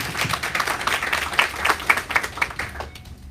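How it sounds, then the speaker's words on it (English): An audience gives a warm welcoming round of applause for a home-care speaker, a dense patter of many hands clapping at moderate volume that fades out toward the end. "let's give her a warm round of applause"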